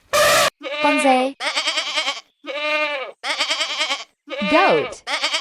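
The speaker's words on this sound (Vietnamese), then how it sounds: "Goat." A goat bleats repeatedly in loud, close, wavering cries, about six separate calls with brief gaps between them.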